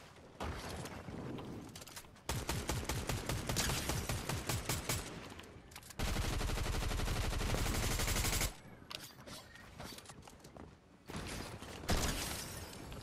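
Rapid automatic gunfire from a Fortnite match, several long bursts of fast, evenly spaced shots separated by brief pauses, loud and close, with a sustained heavy stretch in the middle.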